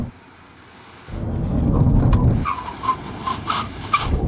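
A BMW E46 M3 CSL makes a full emergency stop from 60 mph: after a quiet start, a swelling rumble of tyres and road noise builds, then squeals and scrubbing sounds follow as the car slows, fairly close.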